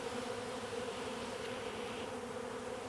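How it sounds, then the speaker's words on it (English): Honey bees swarm and buzz around an open beehive during a honey harvest, a dense, steady, close drone that fills the whole clip without pause. "The bees are going a little bit crazy now."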